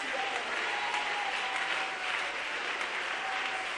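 A church congregation breaks into sustained applause, a dense, even clatter of many hands clapping together without letup.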